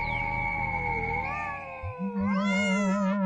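A cat in a funny cat video lets out a drawn-out, wavering meow, then a louder, higher yowl with several short vocal pulses, close and clear with no talking.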